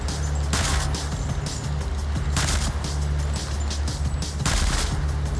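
Rapid bursts of gunfire from a video game with sniper fire, loud and continuous, with louder volleys returning every couple of seconds over a steady engine-like rumble.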